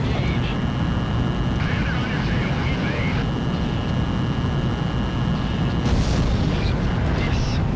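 In Ace Combat 4, the battleship Tanager explodes and sinks amid a constant deep roar of blasts and aircraft engine noise, with radio voices talking over the rumble.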